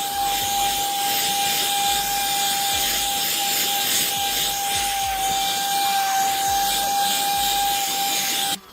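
A portable car vacuum cleaner with 14000Pa suction cleans crumbs off an upholstered bed, giving a steady, close, unbroken motor whine and airy hiss that holds level throughout, with no talking.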